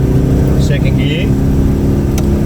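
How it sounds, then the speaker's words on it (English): A 1985 Jaguar XJS engine pulling hard in first gear up a mountain road, a loud steady drone with continuous drivetrain and road noise and no pauses. "might just chuck this thing into first gear and just give it a bit of a grunt up this mountain"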